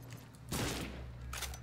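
A burst of rapid gunfire in the video game Redfall over a steady low hum, with a second shorter volley near the end; sharp, close, and loud.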